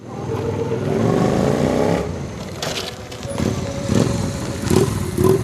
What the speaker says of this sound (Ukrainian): А головне виступи байкерів та хвилюючий рев потужних двигунів